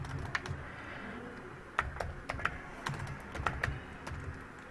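Keys on a computer keyboard clack in irregular short bursts and single taps, fairly close and crisp over a quiet background.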